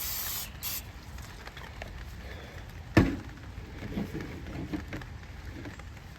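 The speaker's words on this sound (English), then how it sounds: "I'm gonna spray the fowl forms." Pam cooking spray hisses onto foil pans in short bursts, with a brief clack partway through, close up and fairly quiet.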